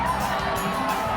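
Crowd of 20,000 children rushing onto Adelaide Oval at a cricket Test, a dense, distant-sounding roar of shouting and cheering voices that stays steady throughout.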